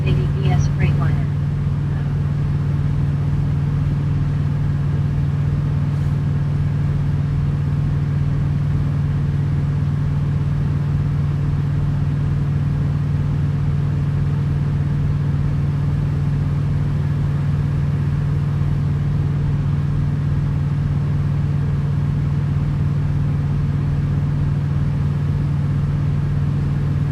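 Steady low drone of idling big rig trucks and passing traffic at a truck stop, including Kenworth T680 and Freightliner trucks, a constant loud engine rumble with a strong hum throughout and little variation.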